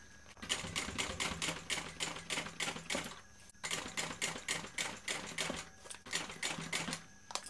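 Sewing machine basting through thick layers of a bag, a close, rapid, steady needle clatter in two runs split by a brief pause, with no talking.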